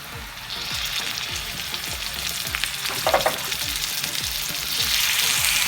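Minced meat (keema) frying in a pan with lightly sautéed garlic and cumin, a loud continuous sizzle broken by regular rhythmic stirring scrapes of a spoon, close up with no talk.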